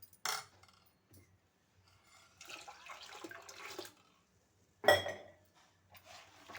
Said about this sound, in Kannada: ಇದಕ್ಕೆ ಸ್ವಲ್ಪ ನೀರು ಹಾಕ್ಬೇಕ್ರಿ.